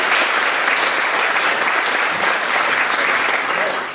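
A theatre audience at a live clairvoyance stage show in Gainsborough gives loud, sustained applause, a thick continuous roar of clapping filling all four seconds without a break.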